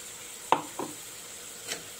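Spice paste being stirred into a frying curry in a pan: a couple of brief scraping stirs and a light clink over a faint sizzle, close and quiet, no talking.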